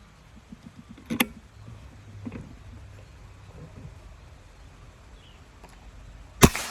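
Sharp crack of a Goblin Dobel Power Plenum PCP air rifle firing once near the end, loud and close, preceded by quiet outdoor ambience with a few soft clicks and handling noises.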